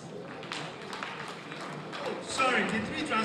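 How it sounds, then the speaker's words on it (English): An audience claps for the head of service at a Lagos State public service event, a dense, moderate round of applause that swells toward the end, heard at a distance with talk mixed in. "Once again, round of applause for the head of service."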